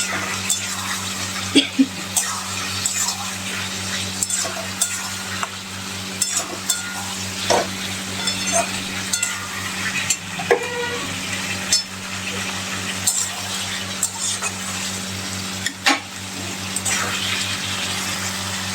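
Potatoes being sautéed and stirred in a pan for a potato, pointed gourd and prawn curry, a continuous moderate sizzle with intermittent scraping spatula strokes and clinks under a steady low hum.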